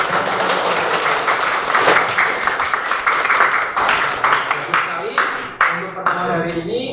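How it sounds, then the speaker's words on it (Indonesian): Applause from a class of students at the close of a school lesson, a broad steady patter of many hands lasting several seconds, thinning toward the end with voices mixed in. "Kita beri aplaus untuk semuanya."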